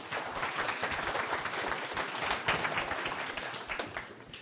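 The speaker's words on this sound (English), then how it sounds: "Give me a nice round of applause." Live audience applause at a hypnosis demonstration as a volunteer comes up on stage: dense, steady clapping from a room of people, fairly loud and sustained for several seconds with no talk over it.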